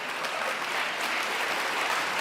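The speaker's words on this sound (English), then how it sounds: "There's the parents clapping." Parents in an audience at a university talk clap steadily, a dense, even wash of applause that carries through the whole stretch without a break.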